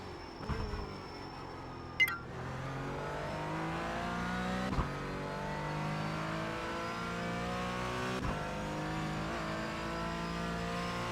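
Race car in iRacing driving through a corner, engine note dropping under heavy braking with sharp gear-change blips, then rising harmonics as it accelerates away; loud, steady and close, no talk.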